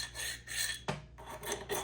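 Close rasping strokes of a chainsaw file worked around the edge of a cast Tri-Star minibike wheel, about five rough scrapes in quick rhythm, loud and alone.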